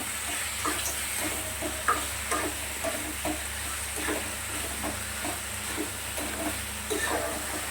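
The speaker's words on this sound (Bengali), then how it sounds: "এটা বেশ কিছু সময় নাড়াচাড়া করে নেব।" Ginger garlic and cumin paste fries in a pan for a prawn dish, a continuous close sizzle broken by repeated light scrapes and taps of a stirring spoon, with no voices.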